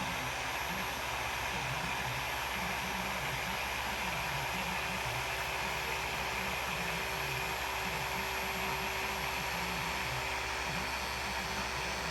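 A dual-action polishing machine with a cutting pad and cutting compound runs on a car paint panel, giving a steady, continuous whirring hum with a faint low wobble, constant and unbroken throughout.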